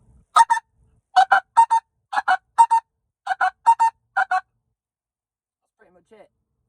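A short-reed pinkfoot goose call, blown by a UK wildfowler, gives a run of sharp, high double-note honks in quick pairs and triplets, loud and close, imitating geese. Brief quiet and a faint word follow at the end.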